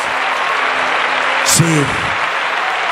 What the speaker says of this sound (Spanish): ese aplauso para Dios